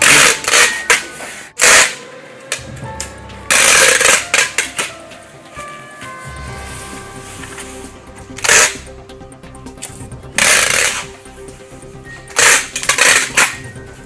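Packing tape is pulled off a roll and pressed onto a cardboard box in an H pattern, making repeated loud, sharp, ripping screeches separated by quieter handling and rustling.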